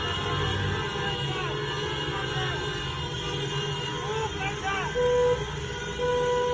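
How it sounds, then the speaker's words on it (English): Car horns honk repeatedly in a busy Iranian street, short toots and longer blasts overlapping above steady traffic rumble, with crowd voices and talking throughout. "the cars are honking in support of the girls"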